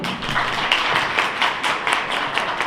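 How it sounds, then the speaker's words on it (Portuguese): An audience at an education seminar breaks into applause, a dense, steady patter of many hands clapping at close range throughout. "Palmas, por favor."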